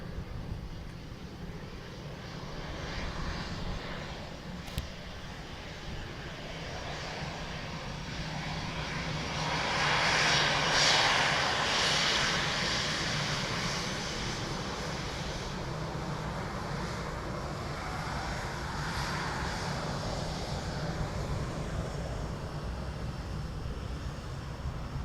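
Emirates flight EK 161 from Dubai arriving at Dublin Airport, its jet engines a steady broadband roar that swells to a peak midway and then eases into a long, sustained rumble with some wind noise.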